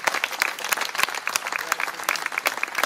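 An audience at an ANFFAS centre event in Carosino applauds for members of a local unit, with dense, steady clapping through the whole stretch and no talk over it.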